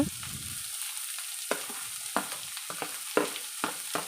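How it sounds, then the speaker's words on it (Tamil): Carrot, beans, cabbage and capsicum stir-fried with onion, a steady sizzle under repeated sharp scrapes and knocks of a spatula against the pan at an uneven rhythm. "இதெல்லாம் ஒன்று ஒன்றா சேர்த்துட்டு நல்லா கிளறி விட்டுக்கோங்க"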